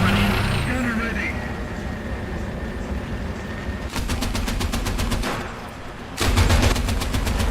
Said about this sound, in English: The sound of those missiles, it reminds me of so much, well, conflict in Middle Eastern countries.